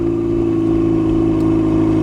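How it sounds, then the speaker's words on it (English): A turbocharged Mazda Miata engine idles and revs with a loud, throaty exhaust drone, steady and close throughout. "that freaking exhaust is nasty"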